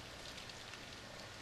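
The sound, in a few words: rain falling outside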